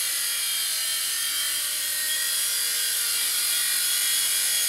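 Blade Nano CPS RC helicopter with a Rakon frame conversion in flight, its loud, steady high-pitched whine from the rotors and motor filling the clip without pause.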